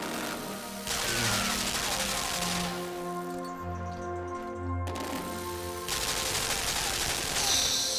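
Cannon fire in the video game Limbo, a rapid burst of heavy repeated shots over a low droning game soundscape, loud and continuous for several seconds, with a brief lull midway.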